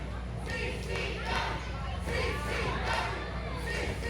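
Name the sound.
wrestling crowd cheering for both teams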